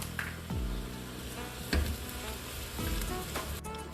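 Onions sizzle in a pan with cloves and bay leaf pieces, a close, continuous frying hiss broken by a few scraping stirs of the spoon.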